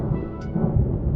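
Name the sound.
thunderstorm thunder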